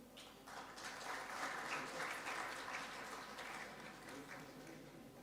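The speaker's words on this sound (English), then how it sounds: "A big round of applause." Audience applause at an artificial intelligence and cybersecurity conference, a steady mass of clapping that swells and holds for several seconds, moderately distant and faint, with no talk over it.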